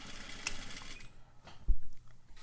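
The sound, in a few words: sewing machine back stitching a seam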